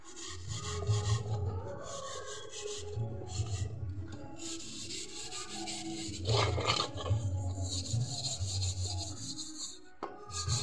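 Dishes scrubbed by hand with a mesh scrubber, a rhythmic rasping rub repeating in short strokes, close and fairly loud, with no talk.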